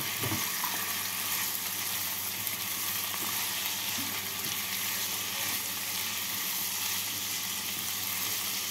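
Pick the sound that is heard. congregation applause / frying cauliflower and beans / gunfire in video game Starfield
frying cauliflower and beans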